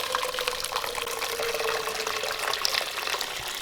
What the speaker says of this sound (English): So mom's added half a kettle of water to ginger, garlic, 3 chilies and garam masala.